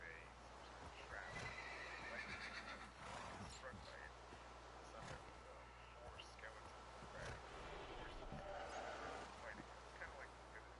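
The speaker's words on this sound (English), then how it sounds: "A zombie horse" A zombie horse in Minecraft whinnies and neighs several times over hoof clip-clops and game ambience, with a player talking quietly at times.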